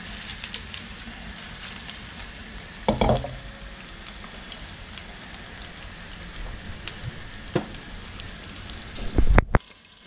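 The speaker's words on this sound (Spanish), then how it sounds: "Doramos los ajitos y después inmediatamente echamos las tiritas de calamar" Garlic and thin squid strips sizzle steadily in a hot pan, a constant crackling hiss with occasional louder spatters and a brief clatter near the end.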